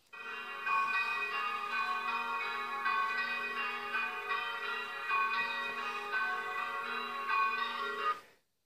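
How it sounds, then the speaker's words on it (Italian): Church bells of Costa, Italy ring continuously in a rich, layered peal, steady and fairly loud, then stop abruptly near the end. "Ascoltiamo un piccolo passaggio delle campane di Costa"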